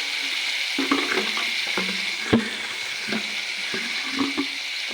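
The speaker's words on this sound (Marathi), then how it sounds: "हे वाटण घालून जरा तेल सुटेपर्यंत परतायचं" Ground paste of coconut, cumin, garlic and ginger frying in oil, a steady bubbling hiss broken by regular spatula knocks and scrapes against the pan, close and alone.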